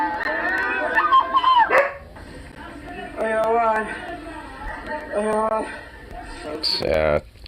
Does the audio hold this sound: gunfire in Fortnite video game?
no